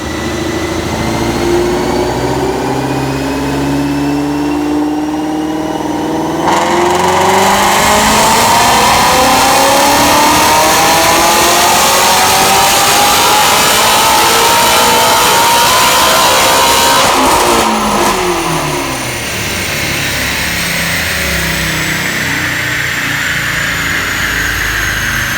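A Shelby GT350 Mustang fitted with Kooks headers and an X-pipe roars through a full dyno pull on chassis rollers, climbing steadily in pitch for about ten seconds before the throttle closes and the engine settles back to idle, loud and close.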